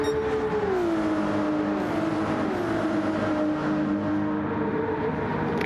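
Ferrari race car in the Gran Turismo racing game, a loud sustained engine drone shifting pitch steadily as it accelerates and eases, with a faint tire squeal, up close and continuous.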